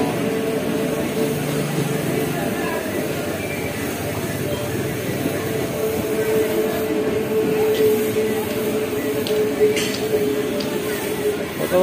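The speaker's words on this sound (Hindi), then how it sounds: "तो लंबा ट्रेन है, लोकल ट्रेन का लंबा।" A long local train runs past with a steady rolling rumble and rattling carriages, occasional faint metallic squeals, and voices chatting nearby throughout.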